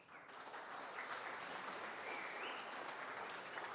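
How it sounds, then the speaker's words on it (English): Sustained applause from the audience at a MeasureCamp 2022 analytics conference in Berlin, steady and even throughout with no talking over it. "Another applause for them,"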